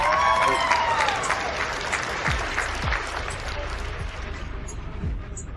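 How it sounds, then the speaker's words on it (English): A round of applause on an online podcast call, heard as a steady, washy patter of clapping that thins out toward the end, with faint voices underneath. "Give her a round of applause, please"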